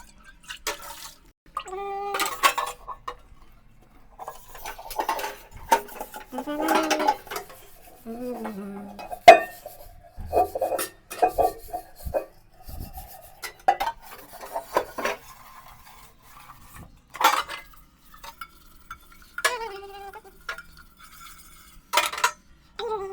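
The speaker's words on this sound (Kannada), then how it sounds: "ಎಲ್ಲ ಪಾತ್ರೆ ಉಜ್ಜಬೇಕು" Dishes, pots and pans being scrubbed by hand in a bachelor's kitchen: repeated bursts of rasping, rubbing strokes with metallic clinks and scrapes, close up, in irregular rhythm with short pauses between rounds.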